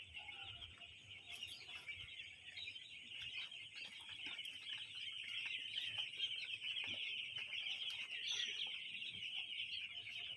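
Poultry birds in a lit shed clucking and chirping in a continuous chorus, with a persistent high-pitched buzz of many small birds and occasional sharper squawks, moderately close and unbroken.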